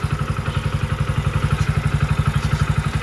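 A Hero Splendor Plus BS6 motorcycle engine idles close by with a rapid, even thumping pulse, steady and loud throughout.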